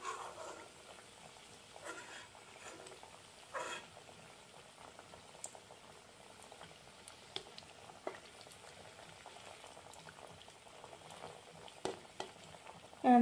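Homemade puff pastry patties cook in a pan over a low gas flame, giving a faint, steady sizzle with occasional soft clicks and taps. No one speaks.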